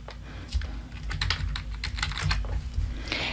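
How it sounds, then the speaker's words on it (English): Close typing on a computer keyboard, a quick run of crisp irregular key clicks for a few seconds with no speech. "I'm going to type in beauty."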